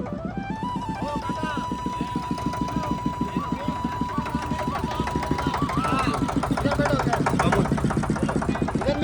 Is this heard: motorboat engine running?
yes